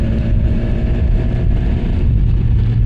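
A BMW GS motorcycle engine runs with a steady, low, throbbing rumble, close and fairly loud for a few seconds, with no speech.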